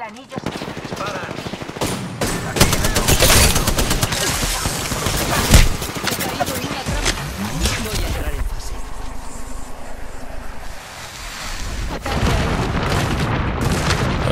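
Rapid gunfire in Apex Legends, dense bursts of automatic shots and heavy booms filling the scene loudly, with brief pauses and a voice talking faintly amid the shooting.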